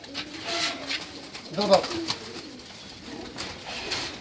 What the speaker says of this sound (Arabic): ودي حمامة كده محدود الريش بتاعها